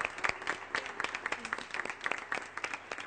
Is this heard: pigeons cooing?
no